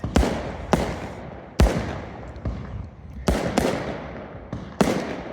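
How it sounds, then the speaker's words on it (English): Fireworks burst at a New Year celebration, about eight sharp loud explosions at irregular intervals, each followed by a crackling, fading tail. "Just to see more fireworks?"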